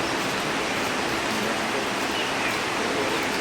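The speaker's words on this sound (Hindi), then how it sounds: "कल दोपहर बाद से लगातार बारिश हो रही है, अभी भी हो रही है हल्की हल्की" Light rain falls steadily in the Western Ghats near the Ajanta caves, a dense, even hiss with no breaks and no other distinct sounds.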